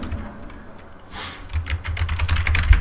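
Someone types on a computer keyboard while playing the game Battlerite, a close run of quick, uneven key clicks that grows busier and louder toward the end, with no talking.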